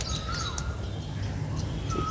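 A pet Asian koel gives short, faint calls outdoors over a steady low background rumble, with a few brief chirps scattered through.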